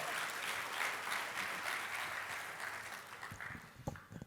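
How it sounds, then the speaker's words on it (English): A crowd claps steadily in sustained applause that gradually thins out, leaving a few scattered claps and some talking at the end. "Can we have one more round of applause?"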